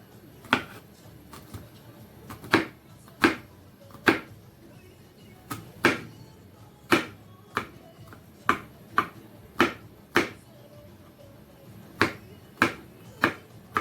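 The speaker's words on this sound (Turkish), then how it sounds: "sarımsaqlarımız artıq incə-incə doğranıldı" Sharp, isolated knife taps strike a cutting board at an uneven, unhurried pace as garlic is finely chopped, a dozen or more crisp chops with quiet gaps between them.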